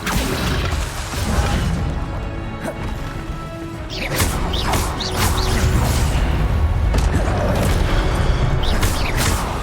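Spells cast in Hogwarts Legacy: loud crashes, thwacks and whooshing magical bursts hit one after another over a dense, busy game soundscape.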